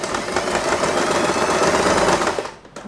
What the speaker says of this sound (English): Let's sew a temporary stitch.